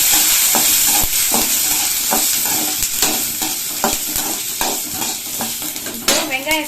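Green chillies, ginger and garlic frying in a pan for ridge gourd peel chutney, a loud close sizzle with repeated metal spatula scrapes and knocks against the pan, ending in a brief clattering rattle.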